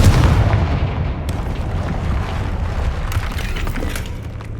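A Confringo blasting spell from the Hogwarts Legacy video game bursting in a loud, deep rumbling explosion that opens the clip and rolls on as a heavy low roar, with small crackling debris sounds scattered over the tail.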